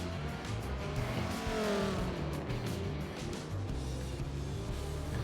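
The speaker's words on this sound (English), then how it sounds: "Locks up going into turn 1 though, very harsh on the brakes" In Forza Motorsport 7 at the Long Beach street circuit, a race car brakes hard into turn 1, its tyres locking up with a steady squeal over the loud, continuous drone of the engine.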